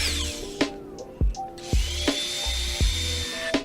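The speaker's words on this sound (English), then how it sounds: "you're just going to take your drill and make 2 pilot holes" Short bursts of a power drill boring pilot holes for aftermarket mirrors on an Integra, several quick whirring spurts with brief pauses, close and fairly loud.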